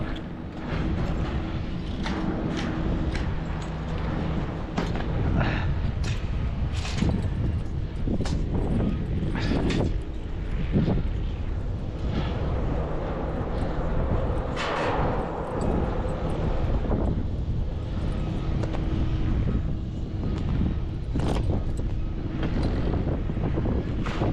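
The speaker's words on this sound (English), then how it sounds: "I've got most of my wind coming from one direction" Strong wind buffets an outdoor microphone at a flatbed truck tarping station, a steady, loud broadband roar for the whole stretch, broken by occasional gusty thumps and bumps, with no talking.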